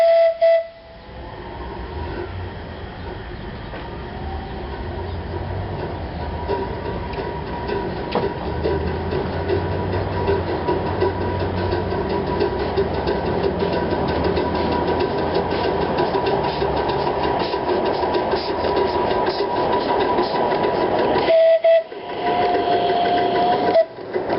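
A coal-fired steam locomotive runs steadily with a continuous rhythmic chuffing and mechanical clatter, loud and close, with brief whistle-like tones near the start and end.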